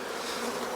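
Honey bees buzz steadily during a hive inspection of a newly installed nuc, a dense continuous drone with no talk over it.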